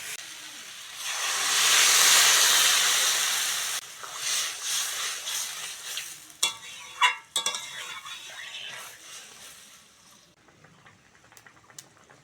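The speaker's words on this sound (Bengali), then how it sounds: "আদা রসুনের কাঁচা গন্ধ চলে গেছে এবার জল দিয়ে দেবে" Water is poured into sizzling ginger-garlic masala in a pan for a cabbage and egg curry, setting off a loud steamy hiss that fades into scraping spoon strokes and clinks against the pan.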